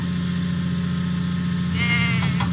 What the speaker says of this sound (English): Diesel must deliver the goats to Farmer McColl's farm show Cranky where the goats are